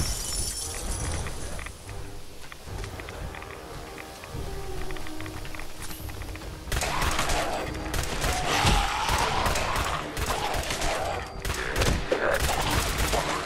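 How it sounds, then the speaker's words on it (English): Gunfire in Fallout 4's Nuka-World amusement park, dense rapid shots that break out midway over game ambience and keep on loud and close in sustained volleys. "Whoa, who shot me?"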